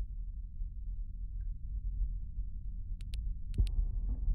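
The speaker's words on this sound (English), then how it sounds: "The heart beating, I hate it." A heartbeat effect in a spooky video game thumps as a low, steady, muffled rhythmic pulse throughout, with a few brief sharp clicks near the end.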